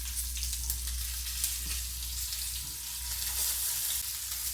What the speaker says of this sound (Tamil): இப்போ கடுகு பொரிஞ்சதுக்கப்புறமா ஒன்று ஒன்றா நம்ம எடுத்து இதில் ப்ளேஸ் பண்ண வேண்டியது தான்